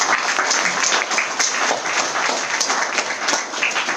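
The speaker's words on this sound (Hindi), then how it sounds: "मैं चाहता हूं कि हमारे सारे गेस्ट के लिए एक जोरदार तालियां हो जाए।" Audience applause for guests at an IMC seminar, steady dense clapping from a crowd filling the whole stretch, loud and continuous without talk.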